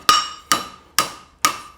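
Four sharp, ringing hammer blows strike the heel of a horseshoe on the anvil during forging, evenly spaced about half a second apart, each with a bright metallic ring that fades quickly, close and loud.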